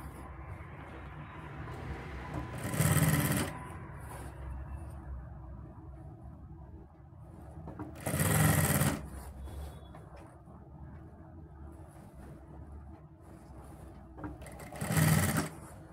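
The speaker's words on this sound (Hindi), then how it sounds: "अब हमें ये हिस्सा उठाना है और नीचे वाला जो कपड़ा है उस पर हमें सिलाई लगाना है" A sewing machine stitches a collar onto an organza kurti, running in three short loud bursts spaced several seconds apart, with quiet handling and faint background noise between.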